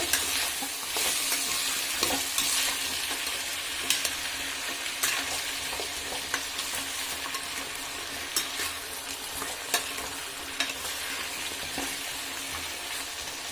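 Sweet pumpkin pieces fry in oil with a continuous, even sizzle, broken by occasional sharp clicks and scrapes of stirring.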